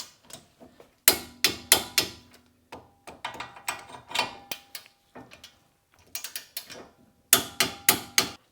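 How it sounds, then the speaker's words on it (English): A torque wrench with a 17mm socket tightens wheel bolts on a 2009-2020 Honda Fit during a brake pad and rotor job, giving bursts of rapid, close ratcheting clicks separated by short pauses, with no talking. "grab your torque wrench and your 17mm socket and torque to 80 foot-pounds."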